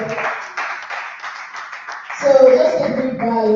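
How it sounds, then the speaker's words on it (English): An audience claps for a mentor being introduced at a product management course session, a light patter of hands that then fades as a voice begins speaking over the last of it. "Round of applause."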